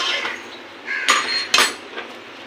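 A metal spoon stirs goat lung masala in a pan at home, giving a soft scraping followed by two distinct clanks of utensil on the pan.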